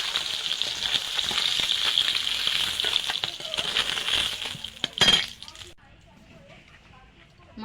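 Fish fry in hot oil in a pan for a green-tomato curry, a loud continuous sizzle with a metal clink near the end before the frying noise drops away abruptly, while a voice speaks over it.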